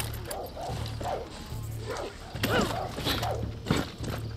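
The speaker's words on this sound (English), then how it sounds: "Alright, a dog." Dog in the video game Far Cry 6 giving several short barks and yips in a quick series, set against a steady game soundscape with a low hum and footsteps.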